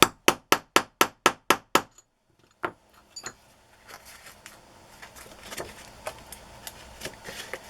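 A rapid series of about eight sharp metallic hammer taps on a metal embellishment, then a pause, a few scattered taps and rustling handling noises.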